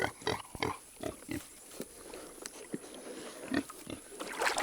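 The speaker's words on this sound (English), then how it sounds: "three of our pigs are out. There comes another one." Loose farm pigs outside getting into water, a series of short grunts and snorts at varying distances, fairly faint, with splashy noise between them.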